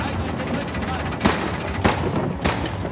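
Three sharp gunshot bursts at even intervals, loud and close, over a busy battle din of background gunfire in the video game Uncharted: The Lost Legacy on PS4 Pro.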